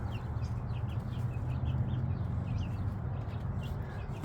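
Pet birds give soft, faint calls and chirps over a low, steady background hum, in a series of brief scattered notes with no talk.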